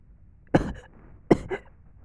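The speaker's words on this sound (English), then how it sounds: "I'm coughing up blood." Two distinct coughs, close and fairly loud, spaced about a second apart, each a harsh burst with a short trailing rasp.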